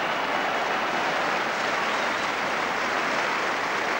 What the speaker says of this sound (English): And even the Hull spectators joining in the applause